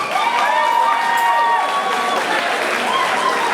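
An audience at a nightclub barman contest claps and cheers loudly, with shrill voices shouting over dense clapping that runs throughout.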